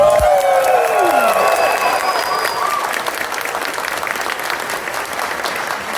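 A large convention audience at a furry convention's opening ceremony claps and cheers loudly and continuously, a dense wall of applause that slowly eases while staying strong.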